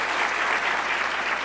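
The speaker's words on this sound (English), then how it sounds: "just a round of applause for them" Applause from a lightning talks session audience at the code4lib 2016 library technology conference: dense, steady clapping from a full room that holds an even level throughout, with no talk over it.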